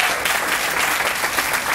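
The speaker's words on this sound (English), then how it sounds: "So let's give Olive a hand at this time" Audience applause at an 80th birthday celebration, a steady, dense wash of clapping hands filling the room at even loudness from start to finish, with no voices over it.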